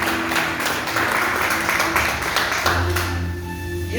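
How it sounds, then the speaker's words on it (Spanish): Dense applause from a crowd fills the space, steady and loud throughout, with a few louder claps and some voices mixed in near the end. "aplaudirle fuerte al que vive"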